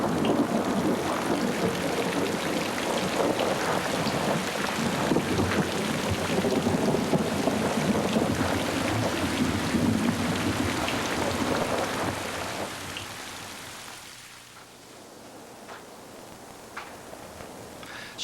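Steady heavy rain pouring down with low rumbling thunder, a dense continuous wash that fades softer toward the end, with no voices.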